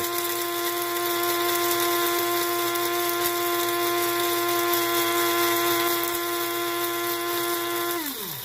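A loud electric rotary coffee grinder grinding coffee beans whirs steadily with a gritty crunch, then the motor cuts off and its pitch winds down at the end.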